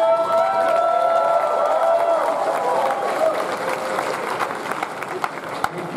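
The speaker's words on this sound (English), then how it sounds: "Let's give one round of applause, Tre Stewart!" Audience applause at a late-night comedy show at an anime convention, with dense clapping and crowd cheering filling the room for several seconds as a comedian is introduced, with voices mixed into the noise.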